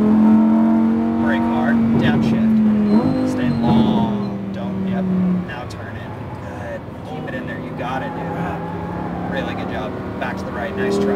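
A Lamborghini Huracan Evo engine roars on a race track, holding a loud sustained drone with rising revs and a shift, while a voice talks over it throughout.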